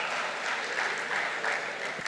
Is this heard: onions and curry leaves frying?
no